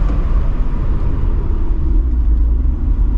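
A 1970 Mercedes-Benz 280SE 3.5 Cabriolet engine rumbles steadily and close as the car comes to a stop, a deep, even drone with a faint whir and no speech.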